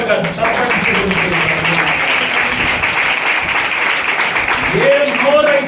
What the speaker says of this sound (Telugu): బిగ్గరగా చప్పట్లు కొట్టి